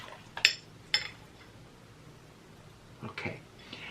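Ingredients for a homemade hand and lip scrub are stirred in a bowl, giving a few sharp clinks of a utensil against the dish. The scattered taps are faint and close, with gaps of near quiet between them.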